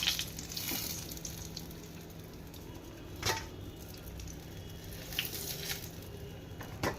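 Eggplant slices frying in hot oil for a Bengali begun basanti dish, giving a steady low sizzle with a few brief stirring scrapes and crackles partway through, no talking.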